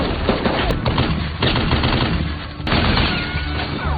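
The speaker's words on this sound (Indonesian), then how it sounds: "Silas beserta anak buahnya yang lain yang baru tiba di TKP menghujani rumah Dr. Kitts dengan beribu-ribu peluru." Heavy sustained gunfire from a film shootout as a gang rakes a house with bullets, dense overlapping automatic bursts and shots that stay loud and continuous throughout.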